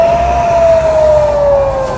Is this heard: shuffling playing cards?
no